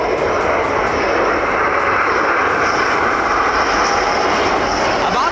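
A Rafale fighter jet roars overhead in a loud, steady, unbroken engine rumble that persists throughout, with no pauses.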